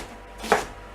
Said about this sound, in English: so I'm just doing a rough chop